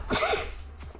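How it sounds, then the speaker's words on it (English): A single sharp human sneeze bursts out close to the mic, followed by a brief breathy tail and quiet. "I'm gonna sneeze."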